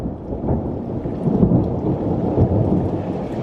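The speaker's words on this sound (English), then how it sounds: "enjoy this like 3 minutes of just peace and quiet through the rain." Steady rain pours continuously with a dense, rumbling wash, heavy and unbroken, with no voices.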